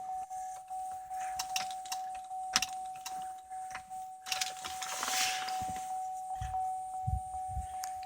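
Keys jangle and a key slides into the ignition of a 2006 GMC Yukon Denali, giving a string of small metallic clicks and rattles close by while a steady electronic chime tone runs underneath.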